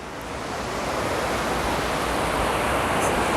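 Ocean waves wash steadily along a seashore over wet sand, a loud, continuous surf roar that swells slightly and carries on without a break and with no voices.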